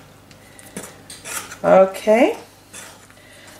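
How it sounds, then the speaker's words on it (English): A spoon folds banana bread batter in a bowl, wet clattering scrapes against the bowl rising to two loud bursts mid-way, with a brief spoken word early on. "with a spoon, we mix that through, folding it through."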